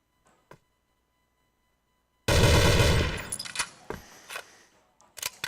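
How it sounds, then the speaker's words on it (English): Gunfire in the CrossFire video game at a championship match: near silence broken by a sudden loud, sustained burst of automatic fire, then scattered sharp shots and clicks. "Shots go through, but no connections"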